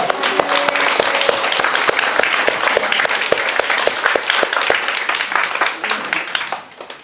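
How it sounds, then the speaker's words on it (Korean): A church congregation claps in praise to glorify God, a dense, steady wash of hands close by with a few brighter individual claps, fading out near the end. "우리 하나님 앞에 영광의 박수 올려드립시다."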